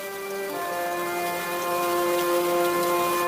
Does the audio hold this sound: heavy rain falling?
yes